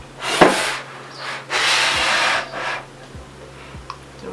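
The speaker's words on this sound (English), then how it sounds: "I'm gonna start grating." Fresh coconut pieces rasped back and forth across the larger holes of a hand grater, giving two or three broad scratchy strokes with short pauses between them, close and fairly loud, with no talking.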